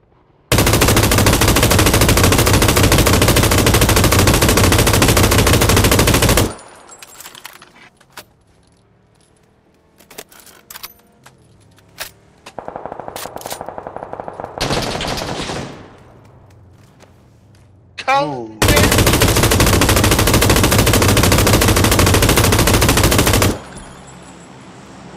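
Long loud bursts of automatic gunfire from the battle royale game PUBG, two sustained volleys separated by quieter scattered shots, clicks and a passing engine-like whoosh, with no talk.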